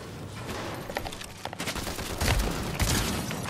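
Rapid bursts of gunfire in a ranked online shooter game, a dense fusillade of cracking shots that swells louder near the end, continuous and close with no talking.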